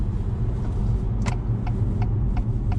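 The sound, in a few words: 2021 Acura TLX car driving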